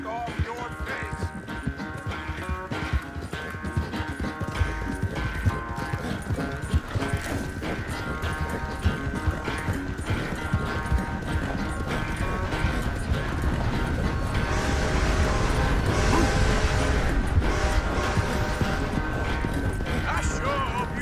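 Horse hooves clop along in Red Dead Redemption 2 as the rider moves at a steady pace, with game music and ambience layered underneath and rising toward the end.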